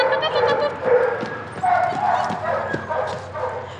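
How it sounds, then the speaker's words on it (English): Detector dogs bred as working dogs for Australian border security bark and whimper, with several yips and whines at close range amid kennel clatter. "These dogs have been bred to become working dogs and to protect Australia from, of course, narcotics, firearms and explosives."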